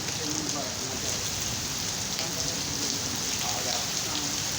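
Strong wind and rain sweep through Lahore, producing a steady, loud roar of rainfall on surfaces that holds unbroken for the whole stretch.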